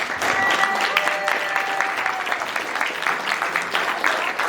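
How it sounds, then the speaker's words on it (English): Wedding reception guests applaud the couple's speech with a dense, steady round of clapping from a crowd, sustained throughout and close, with a faint tonal whistle or voice threading through early on. "Have a nice round of applause for them."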